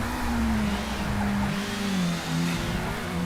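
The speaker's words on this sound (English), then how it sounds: "despite the fact that the cars are obviously very loud" Loud race car engines in the ToCA Race Driver video game, a steady droning roar with pitch shifting up and down as cars rev and hold speed, continuous and close throughout with no talking.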